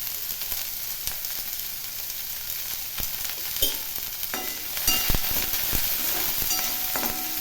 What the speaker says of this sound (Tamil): புடலங்காய் பாதி வதங்கினதும் நாம் வெங்காயத்தையும் இதுக்குள்ளேயே போட்டுடலாம்.